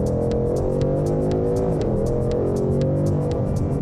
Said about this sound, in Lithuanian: Variklio garsas